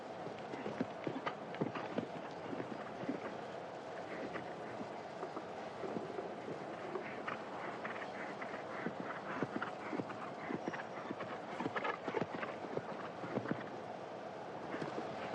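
Show jumping horse cantering around an arena course at a Global Champions League event in Shanghai, steady rhythmic hoofbeats moderately close over a constant crowd and arena background.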